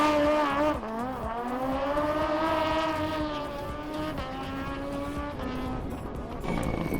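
Two-wheel-drive rally car driven by Josh Reed launching into a British Rally Championship stage, its engine rising and falling through the gears in a loud, sustained snarl for the whole stretch, close to the listener.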